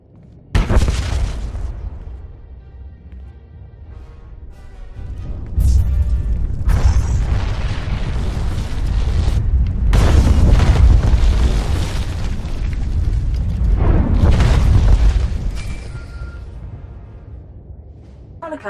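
Explosions rip through a Star Wars: The Old Republic cutscene, a sharp loud blast followed by a series of rolling booms and crackling debris over nearly twenty seconds, with rumbling low-end swells between bursts.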